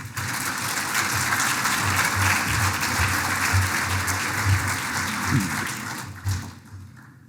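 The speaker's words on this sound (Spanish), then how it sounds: "Recibámoslo con un gran aplauso" An audience at an international fruit-growing conference applauds to welcome a speaker on climate variability, a steady, dense wash of clapping that holds for several seconds before thinning out at the end.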